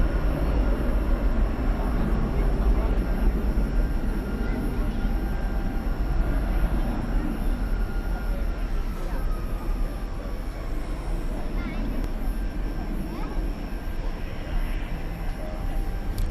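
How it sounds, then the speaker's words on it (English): A steady, loud broadband rumble of an aircraft taxiing near runway 18 left at DFW Airport at night, a continuous engine roar that stays even throughout without pauses. "this aircraft about ready to cross runway 18 left, which is where it would be taking off from under ordinary circumstances"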